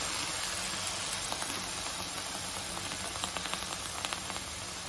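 Water poured into a pan of frying snake gourd for poriyal sends up a dense, even steam hiss and sizzle that holds steady, with faint crackles scattered through it.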